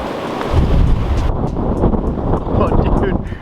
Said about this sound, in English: my gates are trying to blow open